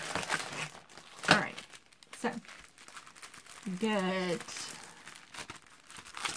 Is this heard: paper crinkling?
yes